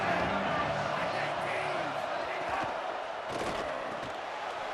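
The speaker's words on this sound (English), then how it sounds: "Big 3rd down as the crowd gets behind this defense." Stadium crowd noise from a college football video game, Penn State matchup, a steady loud roar of cheering fans across the whole stretch with a game commentator's voice talking over it.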